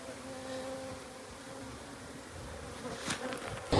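Honey bees buzz steadily inside a shed during a removal from under the floor, a close, continuous drone with a couple of louder bumps near the end.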